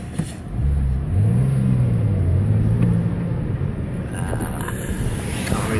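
A Porsche Boxster engine drones steadily while driving, with a low hum that rises and eases under rushing road and wind noise, close and continuous without speech.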